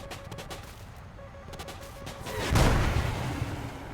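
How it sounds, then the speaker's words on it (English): A missile proximity-fuses and explodes on the tail of a jet in an air combat video game, knocking out its rudder; a sudden loud boom erupts partway through and rolls on, following softer crackling rumble. "The missile proxy fuses on his tail and takes out his rudder."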